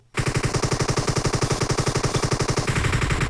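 Rapid automatic gunfire in the PUBG Mobile video game, a long loud burst of evenly spaced shots at close range, uninterrupted for about three seconds.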